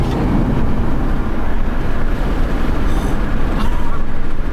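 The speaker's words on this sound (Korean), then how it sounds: "그럼 동일하게 시속 80km에서 윈도우도 한번 내려볼게요." Inside a 2026 Hyundai Avante Hybrid at 80 km/h with a window lowered, a loud, constant roar of wind and road noise fills the cabin with no speech.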